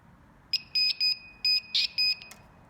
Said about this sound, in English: And the last one is our buzzer here.